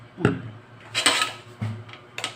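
Pork lumpia shanghai filling being mixed in a bowl, seasoned with Maggi Savor, with several clinks and scrapes of a utensil against the bowl in short bursts, close and fairly quiet, with no talking.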